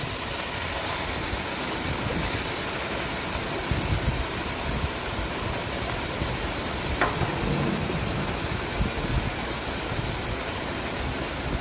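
Chopped amaranth greens hitting a hot cooking pot, a steady broadband sizzle holding constant throughout with a few faint clinks, close and fairly loud, no talking.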